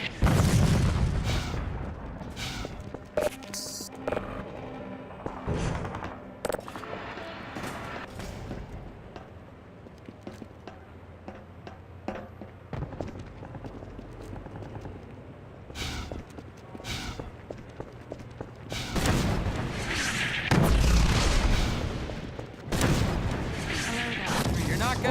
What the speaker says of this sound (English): this is airstrike